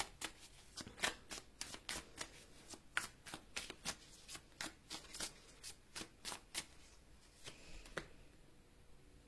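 Tarot cards being shuffled by hand make a crisp, rhythmic series of about twenty sharp riffles and taps at a steady pace close up, with no talking.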